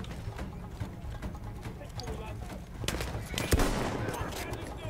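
A horse's hooves clip-clop in Battlefield 1 amid dense wartime game noise, with bursts of gunfire and a sharp crack late on, all under someone talking.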